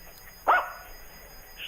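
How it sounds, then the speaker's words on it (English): A single short dog bark sounds indoors, moderately close, against quiet room noise with a faint yip near the end. "My dogs are taking over the show."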